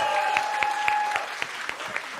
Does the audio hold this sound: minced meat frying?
no